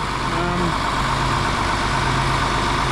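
An older farm tractor idles steadily on a silo-filling job, a loud, close, continuous low engine drone with an even rumble and no change in pitch throughout.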